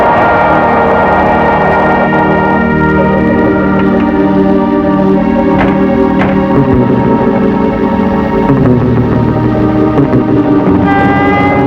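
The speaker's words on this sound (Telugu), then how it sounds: "ట్రైన్ వచ్చే సౌండ్ వినిపిస్తోంది" A train approaches in a Telugu film scene. A loud, sustained, horn-like drone with layered tones holds over a low rumble throughout, with no talking.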